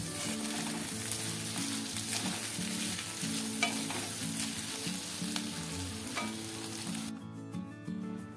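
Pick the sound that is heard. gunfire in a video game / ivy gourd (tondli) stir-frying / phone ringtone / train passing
ivy gourd (tondli) stir-frying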